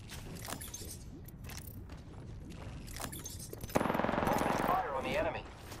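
Gunfire in Apex Legends: a loud sustained burst of automatic shots lasting about a second, preceded by scattered clicks and movement sounds in the game.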